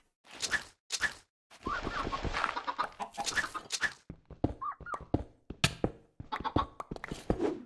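Chickens in Minecraft cluck in short, choppy bursts, several birds overlapping up close with brief gaps between calls and no voices.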